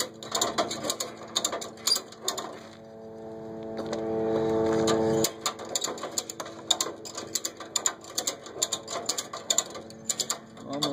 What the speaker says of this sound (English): While I ratchet it.